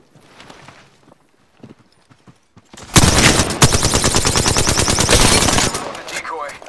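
Sustained automatic gunfire in Apex Legends, a loud rapid burst lasting nearly three seconds after a quieter stretch of scattered footsteps and talk, then trailing off.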